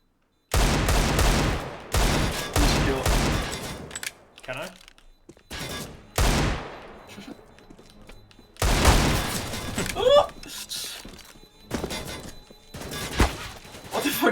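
Gunfire during a playtest of a shooter game map, with loud bursts of rapid automatic fire in clusters separated by short quiet gaps, close and punchy, repeating across the stretch alongside faint player voices.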